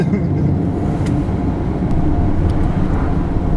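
A 2021 Jaguar F-PACE SVR's 550-hp V8 cruising downhill at low revs, a steady low rumble mixed with road and wind noise from inside the car, even and unbroken throughout.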